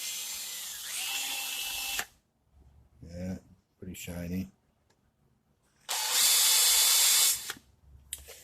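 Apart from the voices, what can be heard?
drill removing carbon buildup from a tool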